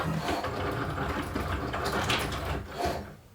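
Close, busy mechanical whirring with small clicking and ratcheting of gears as a Cricut Maker cutting machine calibrates its engraving tip, a motor buzzing and shifting steadily before a brief pause.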